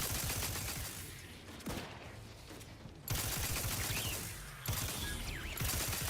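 Turret gunfire in a video game, rapid bursts of automatic shots rattling in dense volleys that drop off briefly and then resume, loud and continuous with no talk.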